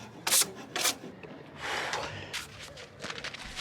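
Wood being sanded with a power sander for a compost toilet on a narrowboat, heard as close, rasping bursts of abrasive friction, two short sharp strokes and then longer, uneven scrubbing passes.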